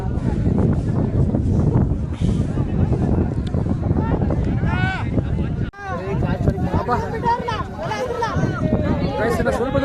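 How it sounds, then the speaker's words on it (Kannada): Strong wind buffets the microphone on a hillside climb, a loud continuous roar throughout with people talking over it and a brief drop partway through. "ಗಾಳಿ ಕೂಡ ಅದೇ ಥರ ಸ್ಪೀಡಾಗಿ ಬರ್ತಾ ಇದೆ"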